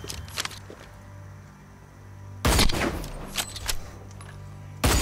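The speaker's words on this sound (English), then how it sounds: "That is a massive machine gun" A machine gun fires in the Hyperscape battle royale video game. A few light shots come first, then two loud, sudden close bursts of rapid fire.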